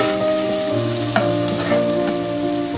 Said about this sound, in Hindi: प्याज को हल्का सा पकाएंगे कि ये अपनी रंगत तब्दील कर ले।